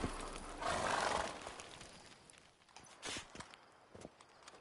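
Roach, the horse in Witcher 3, walking with soft, scattered hoof clops and a rustling gallop-like rush early on, fairly quiet, the steps growing more distinct and spaced toward the end.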